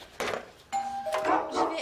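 A two-tone doorbell chimes nearby, followed by a second ring, while a person speaks briefly over it.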